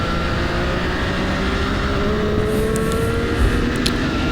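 A large-displacement motorcycle on the Thompson race track holds a steady, loud engine drone as it passes another rider, with a couple of faint high clicks near the end.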